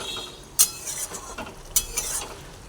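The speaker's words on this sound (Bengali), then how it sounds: "গরম মশলার গুঁড়ো দেওয়ার পরে আবার ভালোভাবে একটু নাড়াচাড়া করে দিই" Spoon stirring curry in a pan after garam masala powder is added, with a few sharp metallic scrapes and clinks over a soft background sizzle, close and fairly loud.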